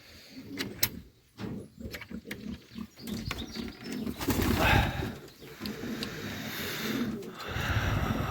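Pigeons coo softly in a dovecote amid rustling, wing flaps and scuffling, with occasional thumps and clatter in a cramped, echoing space.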